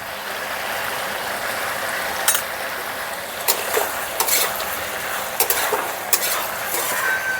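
Katla fish head frying in a pan with turmeric, a steady close sizzle with intermittent scrapes and clinks as it is stirred.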